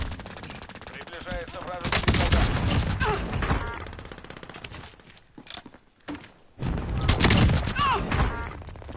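A nail gun in the video game Call of Duty Warzone fires in rapid, loud bursts, with a sharp volley, a brief lull, then another close burst of shots.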